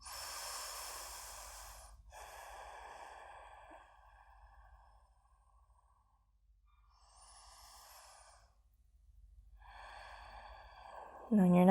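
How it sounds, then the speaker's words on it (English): Slow, deep breaths held in a yoga pose for back pain: several long, soft inhales and exhales with quiet pauses between them, close and clear over a quiet room. "Take a couple breaths here."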